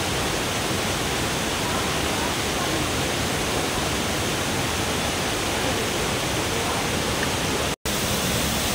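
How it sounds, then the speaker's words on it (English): A waterfall at the end of Sapadere Canyon gives a steady, dense rushing roar, loud and close, broken only by a brief cut near the end. "It's a beautiful waterfall in the end."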